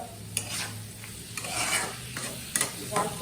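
Pointed gourd stirred and fried in a pan for an egg-and-gourd curry, cooked with dried red chillies: a steady close sizzle with repeated scraping stirs that come in uneven strokes, no voices.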